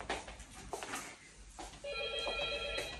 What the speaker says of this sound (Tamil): என்னப்பா உள்ள நுழைஞ்சோன்னு ஃபோன் வருது.